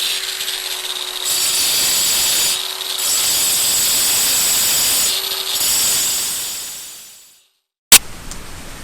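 A power tool cutting cracks in concrete, a loud, harsh, continuous grinding whine that runs in long bursts with brief dips, then winds down to silence before a sharp thump.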